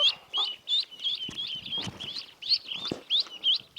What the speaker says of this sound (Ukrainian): У нас є куріток багато і квочка